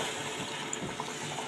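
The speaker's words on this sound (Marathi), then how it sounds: "थोडंसं पाणी टाकायचं आता" Water poured into a cooking pan of drumstick curry gives a short, steady splashing gush, close and fairly even throughout.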